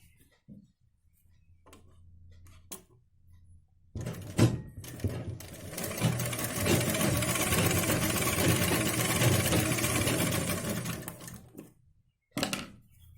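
A sewing machine stitches lace onto blouse fabric in a steady, fast mechanical whir that runs for several seconds. Short clicks and handling noises come before it, and it stops with a brief burst near the end.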